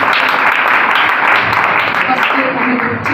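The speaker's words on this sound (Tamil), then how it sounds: "நல்ல கைதட்டுக்கும் உற்சாகம்." Audience applause at a Tamil Bible competition and Sunday class prize-giving ceremony, a steady dense patter sustained throughout with voices talking over it.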